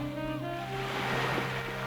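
Waves roll onto a quiet beach as a steady, close wash of surf, with a broad continuous roar that swells gently and never breaks into separate crashes, over a low tonal hum.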